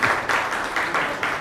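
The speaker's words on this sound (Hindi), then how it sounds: "तालियां बजाने की तो बजाओ।" Audience applause at a Women's Day 2024 gathering held with Anand Ashram, a steady wash of clapping that swells in several short pulses over a second and a half.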